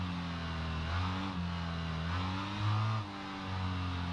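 BMW F800R motorcycle engine in the Ride 2 racing game, a steady mid-pitched drone with rising and falling harmonic tones as the revs shift through gear changes, loud and continuous without speech.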